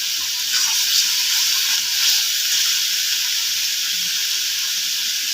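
Ginger, garlic and onion paste with spice powder frying in a pan while cooking a pona fish curry, giving a steady, fairly loud hiss and sizzle with no talking.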